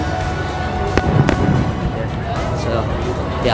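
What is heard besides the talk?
fireworks going off in the distance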